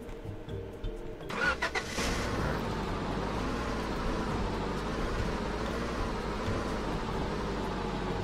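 A pickup truck in the Roblox game Lumber Tycoon 2 starts with a brief cranking sound, then settles into a steady, even engine drone that holds on its own.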